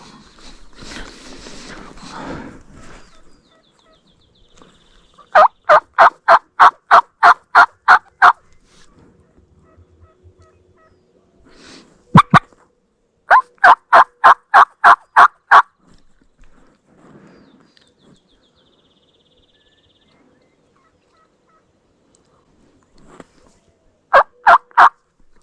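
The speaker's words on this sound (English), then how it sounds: "if you can hear that hen or not." A Rio Grande wild turkey hen calls in wide-open country on public land. Three loud bursts of evenly spaced yelps ring out, separated by long quiet gaps with faint rustling.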